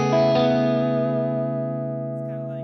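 A clean, chimey electric guitar chord through an FM9 Carol Ann Tucana 3 amp model rings out bright and sustained, slowly decaying with a touch of reverb, alone with no talking.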